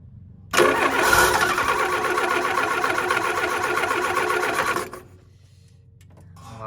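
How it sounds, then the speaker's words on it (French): The starter motor of a Renault 4 cranks hard for about four seconds, a loud rough rhythmic whirring with a harsh edge, then it stops without the engine catching. "le démarreur fait un sale bruit"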